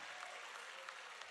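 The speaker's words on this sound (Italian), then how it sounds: "un applauso forte per entrambi" Applause from a live audience at an outdoor stage show in Ollolai, Sardinia, for two performers; a steady, fairly faint wash of clapping held evenly throughout, with no talk over it.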